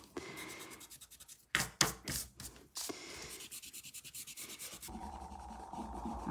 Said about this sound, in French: On peut gommer le trait de crayon, tant qu'on y pense, et tant qu'on est à plat.